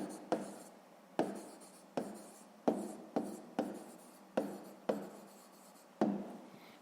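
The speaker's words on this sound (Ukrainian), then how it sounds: "Записуємо відповідь." A pen writes the answer to a sixth-grade math exercise on paper in a series of scratchy strokes, each starting with a tap and fading, about nine of them in steady succession, close and quiet with no talk.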